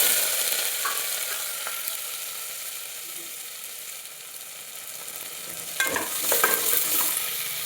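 Small onions and green chillies frying in oil in a pan, a steady close sizzle throughout with brief stirring scrapes near the end.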